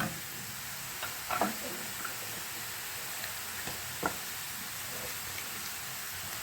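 Onion sautés in coconut oil with crushed chilli for spinach thoran, giving a soft, steady sizzle that stays faint, with a few quiet scrapes and taps of a spoon against the pan.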